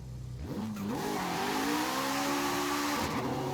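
A drag car in Forza Horizon 5, running slick tires, spins its wheels while the engine revs. The rising engine note climbs and holds close and loud, and tire squeal runs under it.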